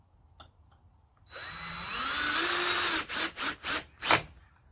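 A power drill drives a screw into a wooden bench, starting with a long rising whine, then finishing with four short bursts as the screw seats. A few faint clicks come first, close and alone.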